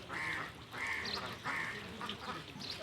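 Ducks quack in repeated loud bursts beside a pond-like canal where monsoon water collects, the calls coming close together in a steady series one morning.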